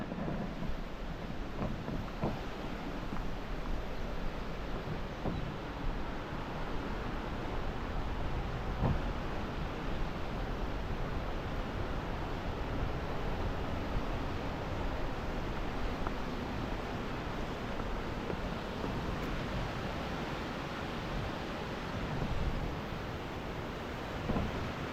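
A river flowing beneath a pedestrian-only footpath bridge, heard as a steady, broad rushing wash of water that holds at an even level throughout, with some wind buffeting and no talk.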